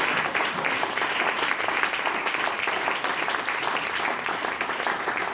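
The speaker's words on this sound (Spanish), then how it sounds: "Ese aplauso al Señor en esta mañana" Steady applause from a church congregation fills the whole stretch, dense and even, with no talking on top.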